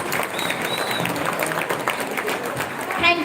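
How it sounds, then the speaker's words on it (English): Audience applause fills a school annual day program, a steady wash of many hands clapping throughout with a brief louder swell near the end. "So let's give them a big round of applause for such an inspiring act."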